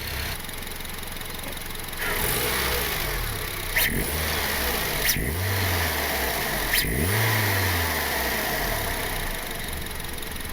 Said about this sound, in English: We just had it idling for about 20 minutes.